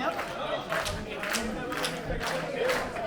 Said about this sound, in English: Crowd getting behind Matt Quay again.